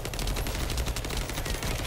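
Rapid video game gunfire from a gun dealing electric and toxic damage, a dense burst of fast repeating shots that stays loud and continuous for about two seconds.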